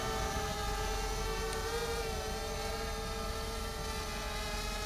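A Diatone FPV mini H-quadcopter drone hovers in flight, its motors giving a steady, close, high-pitched whine that holds nearly constant for the whole stretch without talk.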